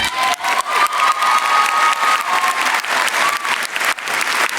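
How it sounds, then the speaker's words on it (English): Graduation ceremony crowd breaks into loud, sustained applause with scattered cheers and a whistle, a dense, close clapping roar that holds for several seconds. "I know we gave them a round of applause once before, but let's do it again."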